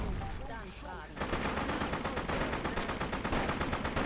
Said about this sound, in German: Sie schießen uns!